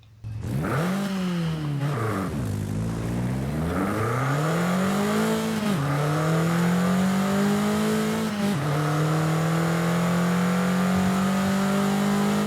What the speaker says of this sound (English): take a listen to this wonderful 2-litre engine